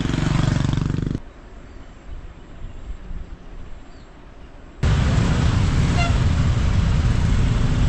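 Loud road traffic roar on a hillside road near a river in Yogyakarta, Indonesia, with vehicles and engines close by; the rumble drops to a quieter stretch with faint talk, then surges back at full loudness.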